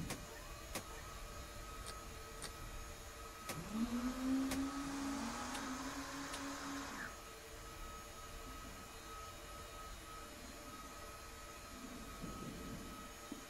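The APU and fuel pumps of a Mi-8 (Mi-17) helicopter start up, a faint rising whine and hum building over a few seconds with scattered clicks, then settling into a quiet steady drone.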